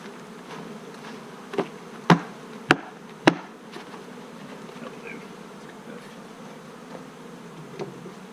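Honey bees drone in a steady, close hum around the frames of a hive, with a few sharp knocks and clacks from handling the woodenware cutting through the buzz.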